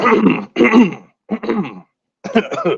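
Several harsh throat-clearing coughs come in quick bursts separated by short pauses, close and loud, with no talking.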